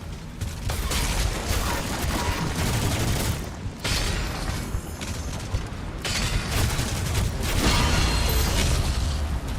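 Gunfire and booming blasts from the game Doom: The Dark Ages, a dense, continuous fusillade with heavy impacts and mechanical clatter that stays loud and close throughout, briefly dipping before swelling again.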